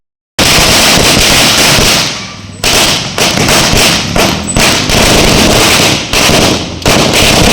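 Firecrackers burst in a rapid, loud, crackling chain during a village celebration of BJP party workers, the dense popping continuing almost without pause, broken only by a few brief gaps.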